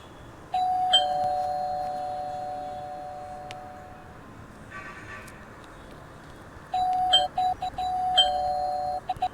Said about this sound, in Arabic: اقعد ارن الجرس كده